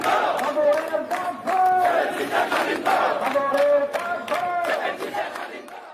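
A large street protest crowd in Dhaka, Bangladesh chants slogans in loud rhythmic unison, voices rising and falling in repeated call-and-response bursts close by.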